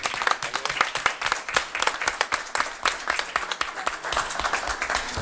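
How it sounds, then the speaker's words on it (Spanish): An audience at a political campaign event in Buenos Aires province applauds a gubernatorial candidacy. Many hands clap loudly and fast for several seconds, with a faint murmur of voices underneath. "Un aplauso."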